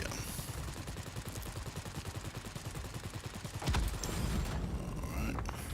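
Aircraft machine guns on a Type 91 fighter in World of Warplanes, heard as a rapid, steady rattle of shots, then a heavier, louder burst near the end.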